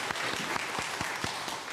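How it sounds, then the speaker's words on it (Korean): Church congregation giving steady applause during a Sunday service, a dense, even wash of many hands clapping with a few louder individual claps standing out. "하나님께 영광의 박수 올려드립니다."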